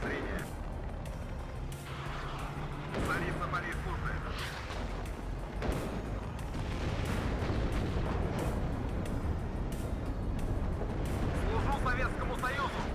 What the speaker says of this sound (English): I've got about 4 players' artillery hitting me.